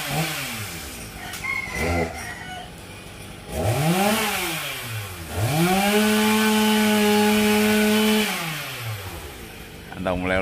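A chainsaw cutting a large branch from a tropical almond tree revs up and down in long, loud surges close by, its whine rising and falling several times.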